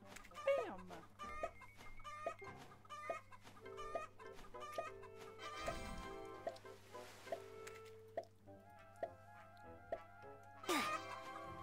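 Cartoonish clucking chickens in a Roblox egg farm simulator, repeated short clucks and squawks scattered over bright game music and sound effects, with a steady low hum underneath and no speech.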